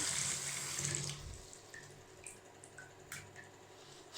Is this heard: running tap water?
yes